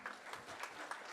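Audience applause at a PGDM batch induction ceremony, faint and distant, steady clapping with rhythmic pulses and no talking.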